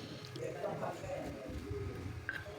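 Food ingredients being squeezed and mashed by hand, giving a continuous close, wet squishing with faint drips and squelches and a steady low background hum.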